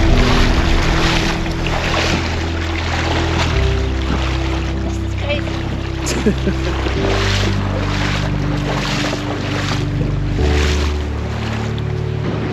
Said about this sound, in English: I'm in about knee deep of water. It's pretty cold water too. And I'm fighting against it.